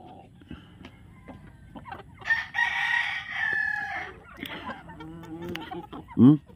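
Chickens being fed azolla cluck and murmur nearby, with a burst of louder squawking in the middle and a sharp call at the end.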